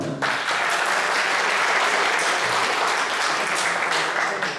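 Sustained applause from an audience rising quickly after a brief pause and holding strong and even, a thick continuous clatter of many hands with no one speaking.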